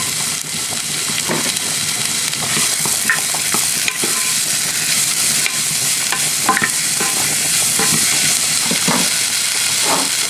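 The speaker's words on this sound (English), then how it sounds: "I'm going to be cooking my onions first" Onions fry in a pan for baked spaghetti, producing a loud, dense, continuous sizzle close up, with frequent stirring scrapes and clicks breaking through.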